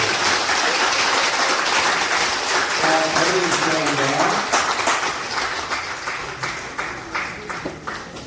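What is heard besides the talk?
congregation applause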